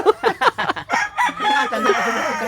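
A favorite rooster crows, a loud, close, warbling call that rises and stretches out over a couple of seconds, preceded by short clucking bursts.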